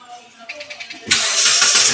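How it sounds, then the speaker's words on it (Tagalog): A Mitsubishi Lancer EX GT-A engine cranks with a few rhythmic starter pulses, then catches and settles into a loud, steady idle. "I-start mo na yung makina."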